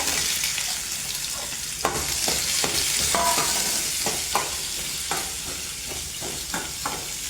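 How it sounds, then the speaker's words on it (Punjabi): Cumin seeds and onion fry in hot oil for a raw banana curry, producing a loud, constant sizzling hiss broken by repeated clicks and scrapes of a stirring spoon against the pan, with no voices. "ਇਹਦੇ ਚ ਪਾਵਾਂਗੇ ਆਪਾਂ ਅੱਧੇ ਚਮਚੇ ਤੋਂ ਵੀ ਘੱਟ ਜੀਰਾ ਪਾ ਲਾਂਗੇ ਨਾਲ ਹੀ ਪਾ ਦਾਂਗੇ ਪਿਆਜ਼"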